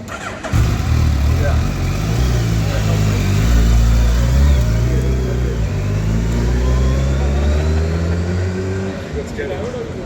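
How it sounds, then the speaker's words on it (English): A Suzuki Hayabusa motorcycle engine drones loudly and close, swelling and then easing off as it goes by, while people talk over it. "There goes the Hayabusa."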